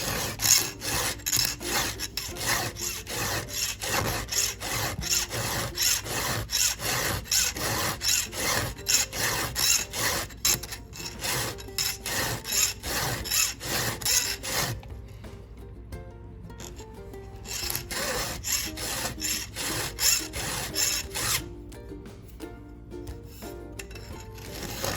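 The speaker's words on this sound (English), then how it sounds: "what you want to do is hold the file on this side too and kind of pull." A hand file sharpens a chainsaw chain in quick, regular rasping strokes, close and steady, then quieter with a pause before the filing resumes.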